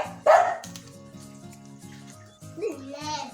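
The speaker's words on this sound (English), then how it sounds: "I'm getting ready to end this video because my dog is making a lot of noise" A dog barks indoors in a home kitchen during pizza making, one sharp loud bark followed by further yaps, mixed with children's voices and a steady musical background.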